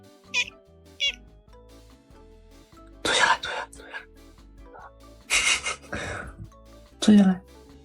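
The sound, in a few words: kitten meowing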